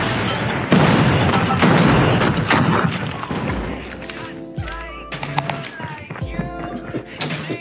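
A frag grenade goes off in a multiplayer shooter match on the Meltdown map, with a loud booming thud and rumbling decay. Lighter clicks, scattered gunfire and voice chat follow it.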